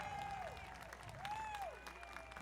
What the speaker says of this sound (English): round of applause for the young men and women of the Boy Scouts and the Girl Scouts and the Brownies that have been helping us out